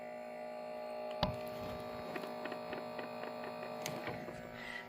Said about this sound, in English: if I push the play button, there's another motor sound